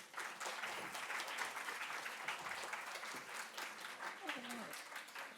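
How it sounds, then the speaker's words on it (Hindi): An audience at a Hindi-language public event applauds for themselves, a dense sustained wash of many hands clapping, heard faintly at a distance throughout, with a voice briefly audible near the end. "अपने लिए ताली ज़रूर बजाइए आप।"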